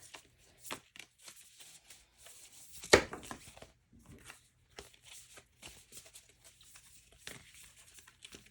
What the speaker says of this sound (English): Too many cards just fell out for you.